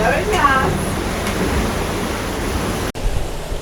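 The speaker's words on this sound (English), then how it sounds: "The waves are coming, following us." Ocean waves roll and wash behind a moving sailboat on open sea, a steady broadband rush with a faint voice at the start, broken by one abrupt dropout near the end.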